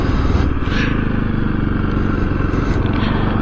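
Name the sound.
motorcycle engine and wind noise on helmet microphone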